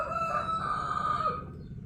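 A black Cemani rooster gives a single drawn-out crow lasting over a second, moderately close, fading into quiet outdoor background.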